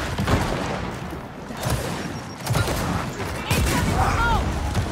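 A frag grenade explosion in Gears of War 4 booms amid sporadic gunfire bursts, with loud thuds rising and falling over a few seconds and a cluttered battle background.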